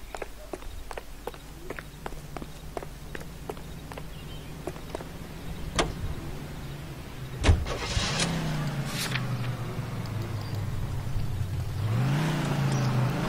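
In the video game L.A. Noire, footsteps tap along before a car door thuds and the engine starts, then revs and pulls away, growing into a steady driving hum.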